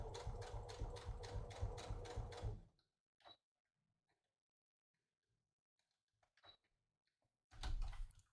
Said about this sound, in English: we're just going to kind of sew right over those allowances